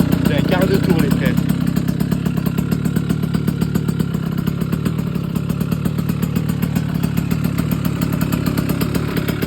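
70cc motorcycle engine kick-started and then idling, a close, loud, rapid and even putter that settles into a steady idle.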